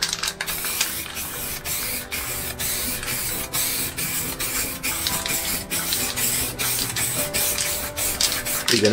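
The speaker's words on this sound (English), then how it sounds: "We're gonna cover it with transparent spray can to give it that cool glossy look" Repeated short hissing bursts from a transparent gloss aerosol spray can, sprayed in quick regular pulses with brief gaps over a painting, close and clear, no voices.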